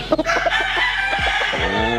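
A six-month-old stag rooster crows close by, its call rising and breaking at the end, with clucking and farmyard noise before it.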